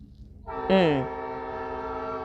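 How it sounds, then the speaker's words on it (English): A train passing close to a house sounds a loud horn, a strong sustained blast that rises sharply then holds steady, heard alone without talk. "can y'all hear that? It's a train. Yes, I live near a train."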